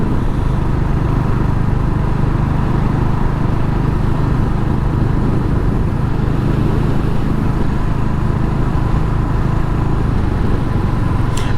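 Royal Enfield Hunter 350 motorcycle on the move, a steady loud engine drone with rumbling low end and constant wind and road noise throughout, no pauses.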